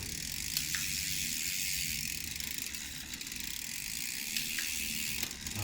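A bicycle rear derailleur is shifted up through the gears while the wheel spins, giving a steady close hiss and whirr of the freewheel and chain with faint clicks at each shift and no talk.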